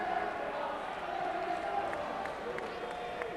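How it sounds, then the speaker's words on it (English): Vocal crowd at a high school boys basketball game between Silver Lake and Quincy, a steady roar of voices and cheering filling the gym, with occasional sharp sneaker squeaks and claps cutting through the din. "Certainly a vocal crowd here tonight, especially from the Silver Lake side."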